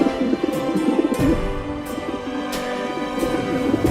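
A cartoon pigeon coos in low, repeated, bubbling pulses that run steadily throughout, close and moderately loud, with no talking.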